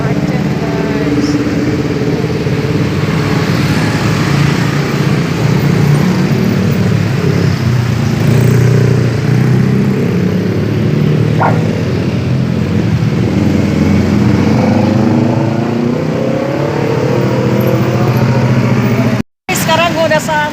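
Dense traffic of cars and motorcycles fills a Jakarta road, a continuous near engine hum and tyre roar with no break, only one brief dropout near the end.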